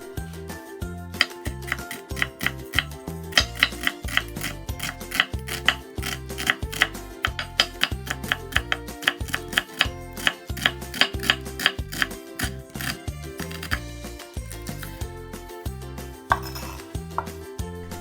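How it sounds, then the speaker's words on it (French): A knife steadily chops food coarsely on a cutting board while preparing Korean tteokbokki, producing a brisk, regular series of close, crisp knocks with no talking. "On le coupe ensuite en deux et on va l'émincer grossièrement"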